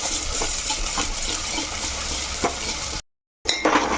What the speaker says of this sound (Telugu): ఇవి మంచిగా వేగాలి బాగా